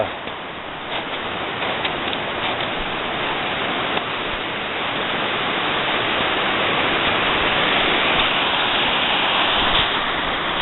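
A river flowing beside the Guest River Trail near an old railway trestle bridge, heard as a steady, broad rushing wash of water that swells slightly louder over time, with no voices.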